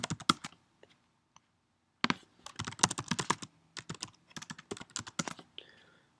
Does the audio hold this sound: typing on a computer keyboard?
yes